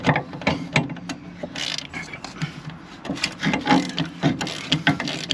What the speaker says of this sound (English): I'd like to, but my ratchet's now stuck.